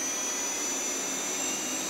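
A Nakamura Slant 1 lathe spinning at speed gives a steady, loud, even whine with a thin high tone on top, holding constant throughout with no talk.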